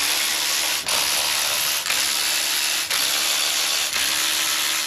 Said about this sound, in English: Now we need a 10mm socket so we can go ahead and start breaking these bolts free.